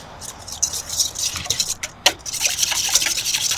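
Crab cake mixture stirred in a bowl: soft, wet scraping and patting strokes in an irregular rhythm, close and fairly quiet, with no speech.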